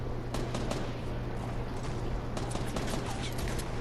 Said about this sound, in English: Who's shooting at who?